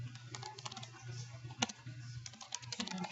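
Computer keyboard typing in brisk, uneven bursts of close clicks over a low steady hum, entering an inventory report for pro shop equipment.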